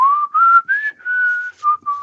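A person whistles a wavering, tuneful melody in several short phrases with brief gaps, close and clear, with no talking over it.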